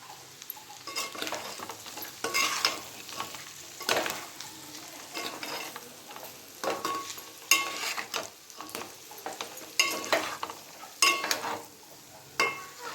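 Curry leaves frying with chicken in a pan, bursts of sizzling crackle and repeated scraping stirs coming in an irregular rhythm, close and fairly loud, with no voices.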